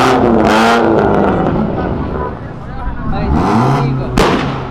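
A car with side-exit exhaust revs hard and loud close by, its engine roaring in bursts with sharp crackling pops, as vehicles leave a car event.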